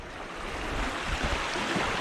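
Ocean waves wash around a spot where oily breadcrumb burley has been tossed in for fishing, a steady close wash of churning water filling the scene with soft surges and no voices.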